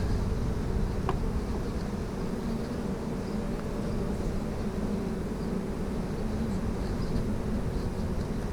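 Honeybee colony buzzing during a spring hive inspection, a dense steady hum of many bees close by, constant throughout with no voices.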